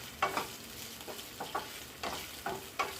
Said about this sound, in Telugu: చిన్న లో ఫ్లేమ్లోనే ఇవి అన్నీ కలుపుతూ ఉండాలండి.